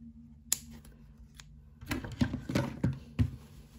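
Scissors cut the yarn ends of a crocheted hat, a few close, crisp snips. A couple of isolated clicks come first, then a quick cluster of cuts.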